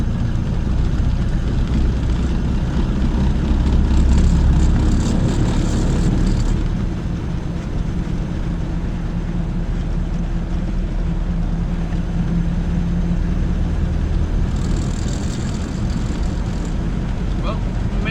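Ford Model A engine on the road, a low steady droning rumble of the intake and running gear that grows slightly louder early on then settles, continuous throughout.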